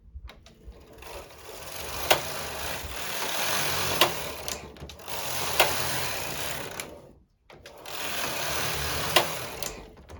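A knitting machine carriage slides back and forth knitting a child's vest in half-cardigan rib, making three long rattling, whirring passes, each ending in a sharp click, with a brief pause between strokes, close and with no talking.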